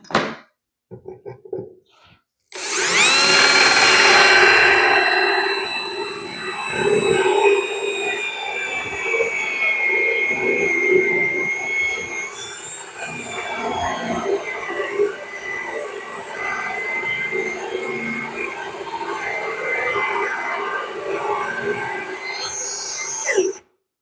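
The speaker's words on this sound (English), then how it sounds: "Then I'll be using a Forstner bit to drill that hole out there." A drill spins a Forstner bit to bore a hole, opening with a few faint clicks before a loud, steady motor whine and grinding cut that holds for about twenty seconds, easing slightly toward the end.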